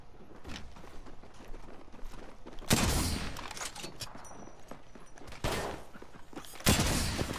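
Shotgun blasts and Flatline rifle fire in Apex Legends, heard as three loud, sharp bursts about three seconds apart over a steady bed of game ambience.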